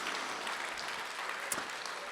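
Applause from the audience at the Ellensburg Rodeo Hall of Fame induction banquet, 2023, is a soft, even patter of clapping heard from some distance.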